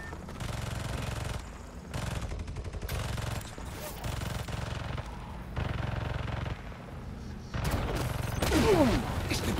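Rapid bursts of turret gunfire from the Spider-Man 2 video game at an abandoned school, sustained loud automatic fire in repeated volleys with short gaps, ending in a denser stretch with sweeping whooshes.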